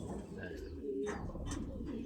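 Large racing pigeons of Saudi stock coo softly in a loft, a low murmuring call repeating under a steady background hum, faint and close, with no talking.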